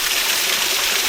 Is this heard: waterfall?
yes